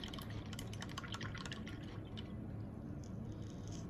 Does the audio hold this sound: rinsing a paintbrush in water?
yes